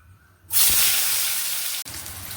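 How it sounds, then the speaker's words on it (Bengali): Eggplant pieces dropped into hot oil in a wok on a gas stove burst into a loud, steady sizzle that holds for over a second, then drops sharply and resumes at a lower level. "তেলটা গরম হয়ে গেছে এরপর আমি ভেজে নেব বেগুনগুলো"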